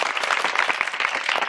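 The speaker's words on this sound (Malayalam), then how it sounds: "അതിനൊരു കൈയടി കൊടുക്കുക" An audience at a college comedy show at Alphonso College Pala breaks into dense, even applause, a steady wash of many hands clapping up close with no pauses.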